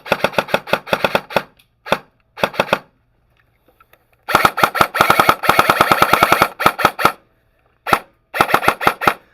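A Krytac airsoft gun fires in loud, rapid bursts of sharp clicking shots with short gaps between strings, its slightly loose grip giving a screechy edge; no talking.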